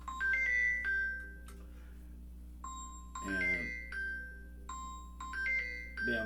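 A telephone rings repeatedly in a room where keyboards and a piano are set up, its electronic trilling tones repeating in bursts, with a brief low musical sound between rings.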